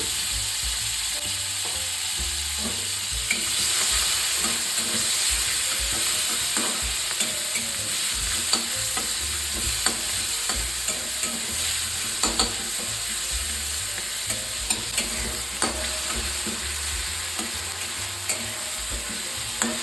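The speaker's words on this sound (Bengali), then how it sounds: "নুন হলুদ মাখিয়ে রাখা ঝিনুকগুলোও আমি দিয়ে দিচ্ছি ভাজবার জন্য।" Freshwater mussels rubbed with salt and turmeric frying in oil tempered with dried red chilli, giving a continuous close sizzle broken by frequent scraping and clicking of a stirring spoon, with no voices.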